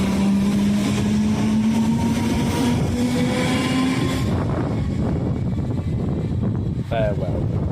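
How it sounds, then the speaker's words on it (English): A British Rail Class 313 electric train pulls away with a rising motor whine over loud rumbling, the hum fading as wheels and carriages roll on. "it's time for the Class 313 to leave."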